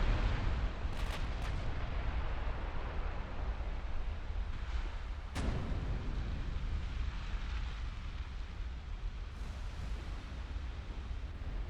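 Heavy naval guns of the battleship USS Massachusetts boom during a fleet battle in Ultimate Admiral Dreadnoughts, a few sharp blasts, one standing out midway, over a steady low rumble of sea and wind.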